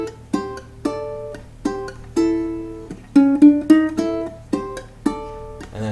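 Plucked ukulele notes ring out one after another in a bouncy riff, with a short descending run of lower notes near the end.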